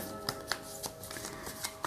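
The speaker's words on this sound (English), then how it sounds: "I will shuffle some oracle cards." Oracle cards are shuffled by hand at close range, with soft papery rustling and regular sharp slaps of cards against the deck, each landing about every quarter second.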